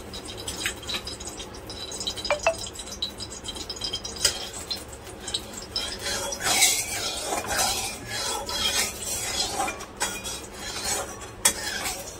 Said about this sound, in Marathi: हे तूप पूर्ण असं कढईला लावून घ्यायचं, असं कलथ्याने सगळीकडे